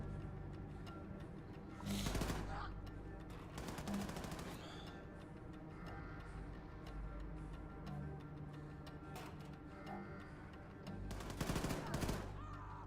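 Gunfire aimed at the player in a video game comes in brief, loud bursts of rapid shots separated by quieter stretches of game sound, with a background music bed.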